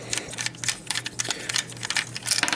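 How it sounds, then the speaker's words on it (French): Small screws being loosened on a CubicFun Screw Play 3-in-1 toy vehicle, a quick series of light plastic clicks and ticks in an irregular rhythm, close up, with no talking. "c'est qu'on peut juste dévisser les vis"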